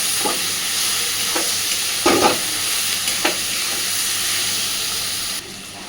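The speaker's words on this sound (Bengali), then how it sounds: "আদা রসুনের কাঁচা গন্ধ চলে যাওয়া পর্যন্ত সুন্দরভাবে আলুর সাথে মশলাটাকে কষাতে থাকবে" Ginger-garlic spice paste being fried and stirred with potatoes in a pan: a steady close sizzle with a few scraping spatula strokes, one louder clatter in the middle, and no talking.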